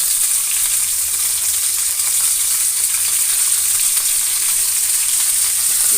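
Ginger, tomato and mint frying in a pan for a sprouted horse gram sambar, a loud, constant, even hiss of sizzling oil with no voices.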